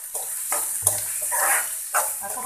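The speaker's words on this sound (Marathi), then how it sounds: "आता हा कांदा छान नरम होईपर्यंत परतून घ्यायचा" Chopped onion sautéing in butter in a pan, a soft steady frying hiss with stirring scrapes and occasional clatters, close and fairly loud.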